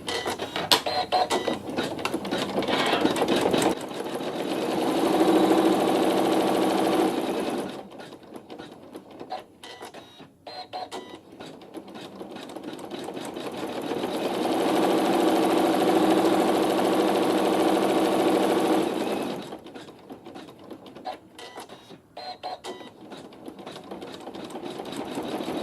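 A sewing machine stitches quilting with black thread, running in two long steady rhythmic bursts, the second the longer, separated by a quieter pause with faint clicks and handling sounds.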